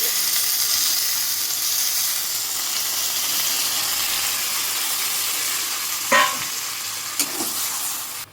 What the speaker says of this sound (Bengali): মশলাটা এখন কষানো হয়েছে, জল দিয়ে কষানো হচ্ছে।